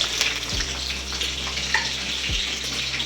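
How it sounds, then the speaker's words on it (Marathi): Cumin and mustard seeds crackle in hot oil while green chillies go into the tempering for a radish vegetable dish. The sizzle is steady and close, with brief bursts as the chillies land. "जिरे मोहरी छान तडतडले त्यावर आपण आता मिरच्या टाकून देऊ"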